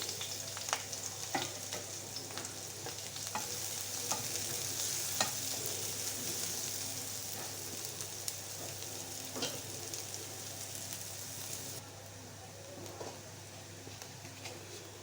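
Chopped onion fries in a pan for a kachur loti dish, giving a steady loud sizzle with occasional stirring clicks, the hiss dropping slightly in the last few seconds.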